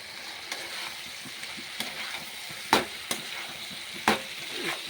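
Soybean chunks and potatoes fry in a cooked-down spice masala, a steady hiss and crackle with occasional sharp spatula scrapes and knocks against the pan, close and moderately loud without speech.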